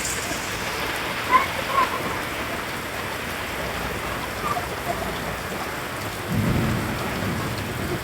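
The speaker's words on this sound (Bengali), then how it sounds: "ঝড়ের তেজ কিছুটা কমে এসেছে" Rain falling steadily during a village thunderstorm, a constant close wash of drops with soft rumbles of thunder rolling in now and then, and no voices.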